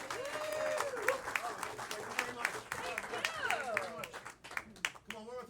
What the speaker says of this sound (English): Come on, one more time. Round of applause.